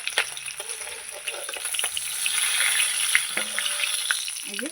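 Fish head and tail pieces fry in hot oil, making a close, continuous sizzle that swells midway, broken by occasional utensil knocks and scrapes.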